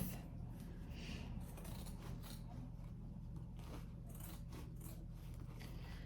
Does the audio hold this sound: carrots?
no